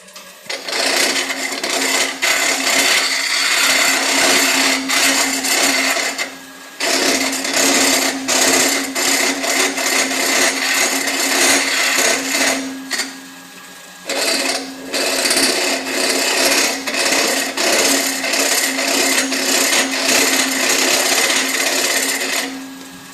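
Hollowing tool cutting into wood on a spinning lathe, loud close harsh scraping in three long sustained bursts separated by brief pauses, with no talking.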